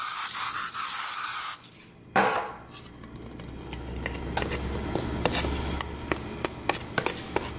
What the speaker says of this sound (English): we're gonna spray it down with some non-stick spray.